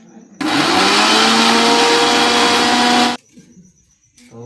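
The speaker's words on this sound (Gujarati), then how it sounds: "ઝીણા કટકા કરીને આપણે આ મિક્સરમાં જ્યુસ બનાવી નાખીએ" A kitchen mixer blender whirs loudly for just under three seconds, grinding chopped spinach and beetroot into juice for homemade organic colour, then cuts off abruptly, leaving quiet room sound.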